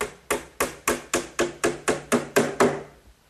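Ten evenly spaced hammer blows drive 5-penny box nails into a glued wooden top frame, sharp close knocks in a steady rhythm that stop cleanly, with no voices.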